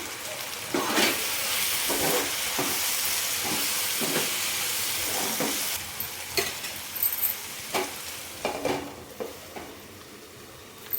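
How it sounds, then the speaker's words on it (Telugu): Chopped ivy gourd and mint are stirred in a hot pan, with a steady sizzle and hiss of steam under repeated scraping strokes of a spoon. The strokes become sharper, separate scrapes toward the end, heard up close with no talking. "ఇప్పుడు మూత ఓపెన్ చేసి ఒకసారి మళ్ళీ ఇదంతా బాగా కలుపుకోవాలి."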